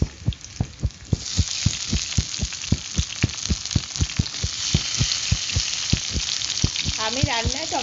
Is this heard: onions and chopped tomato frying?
yes